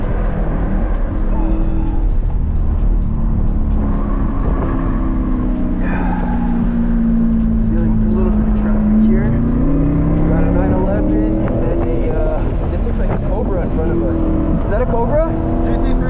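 A C8 Corvette Z51 with track alignment lapping Streets of Willow, engine droning and shifting pitch through corners and braking, loud from inside the car with a driver talking over it.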